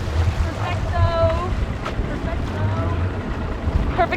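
Gusty wind buffets the microphone on a small fishing boat inshore in Florida, with water sloshing against the hull and a voice speaking in brief bursts.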